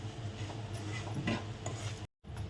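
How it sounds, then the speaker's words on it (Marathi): Semolina roasts in a pan and is stirred, making soft, continuous scraping and faint sizzling. A brief drop to silence falls near the end. "रवा छान लाल होईपर्यंत भाजून घ्यायचा"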